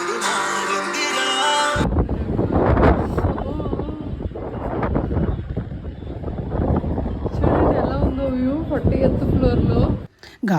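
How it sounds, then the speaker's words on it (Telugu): Strong wind at a 40th-floor height roars and buffets across the microphone almost without a break, loud and close, with people talking over it the whole time. "గాలి చూసారు కదా ఎంత ఎక్కువ వస్తుందో."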